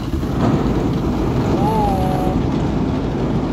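An automatic car wash dryer in Norway blasts air over a car to blow off the remaining water droplets, a loud, steady roaring rush heard from inside the vehicle, with a brief faint voice partway through.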